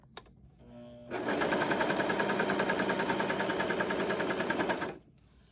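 A Brother 1034DX serger stitches in one steady, fast mechanical burst that lasts about four seconds and then cuts off. A couple of faint clicks come before it, and no voices are heard.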